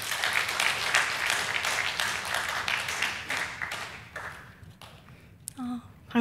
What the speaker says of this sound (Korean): 많이 떨릴 텐데 큰 박수로 격려해 주시기 바랍니다.